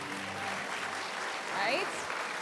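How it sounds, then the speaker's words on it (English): Applause from the audience at the 52nd Eclipse Awards ceremony for horse racing, steady dense crowd clapping over a couple of seconds, with a brief whistle and faint voices mixed in. "Can we get one more round of applause for all the champions tonight?"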